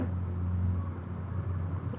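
A truck engine in the SnowRunner video game rumbles low and steady as it accelerates, a continuous droning hum with no talk over it.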